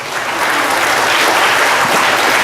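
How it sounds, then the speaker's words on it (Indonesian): Audience applause at an Indonesian leadership talk, a steady, dense burst of clapping from a crowd that holds loud and even for a couple of seconds. "aplaus dulu buat Kang Zul."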